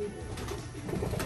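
A racing pigeon coos close by as it arrives back at its loft after a 100-mile young-bird club training race, the soft burbling calls running continuously over a busy low background.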